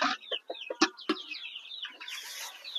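Small chickens kept in a little coop with quail cluck and chirp up close in a quick, irregular run of short calls, with some rustling toward the end.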